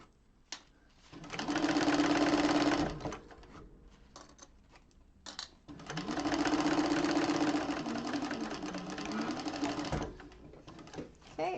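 A sewing machine stitches a zipper bag in two long, close bursts of rapid mechanical whirring, separated by short pauses filled with small clicks and handling noises.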